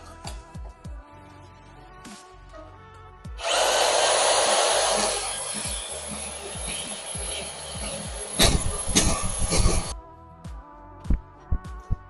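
Power tool cutting through a Magnaflow exhaust pipe for a 1966 Mustang, a loud, bright whine that starts abruptly, runs about six seconds and stops, with clanks and scrapes of metal before and after.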